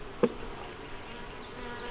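Honeybees hum close by while a hive is opened for its week-five inspection. A sharp buzz rises near the start over a soft, continuous drone.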